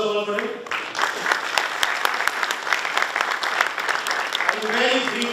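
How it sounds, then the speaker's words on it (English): An audience at a university event at Amity in Greater Noida gives a sustained round of applause for the Moroccan ambassador, steady, dense clapping that fills the hall for several seconds. "A huge applause first of all for him."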